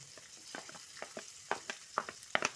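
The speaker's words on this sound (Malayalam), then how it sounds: "അതുകൂടെ ചേർത്ത് നല്ലതുപോലെ മിക്സ് ചെയ്ത് കൊടുക്കാം" Sliced onion is stirred into a pan of hot oil, giving a soft background sizzle broken by a series of scraping, clattering stirring strokes that grow a little louder toward the end, close by with no voices.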